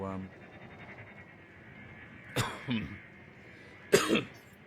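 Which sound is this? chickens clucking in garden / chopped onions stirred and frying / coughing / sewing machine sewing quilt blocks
coughing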